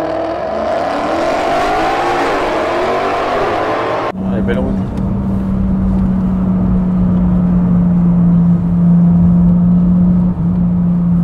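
A Toyota Supra sports car, a JDM import with a body kit, drives on winding roads with a steady engine drone and a slight pitch rise as it accelerates, heard from inside the cabin under people talking.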